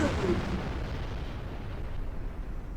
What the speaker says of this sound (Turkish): Sürpriz bir bomba patladı.